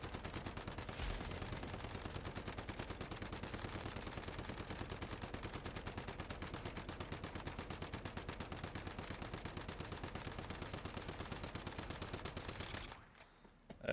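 Rapid, continuous gunfire from the Once Human game, a dense run of crossbow-style shots firing nonstop at a steady fast rhythm, loud and close, before cutting off abruptly near the end.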